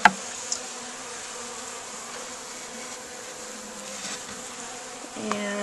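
Honey bees in a new hive during an inspection give a steady, faint buzz that runs under the whole stretch, with a soft click near the start and a small shift in the hum near the end.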